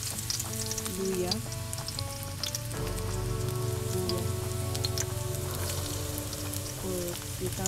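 Ginger sizzles in a hot pan for chicken halang-halang, a Bisaya dish. The frying hiss is steady and continuous throughout, with faint tonal background sounds and small clinks mixed in.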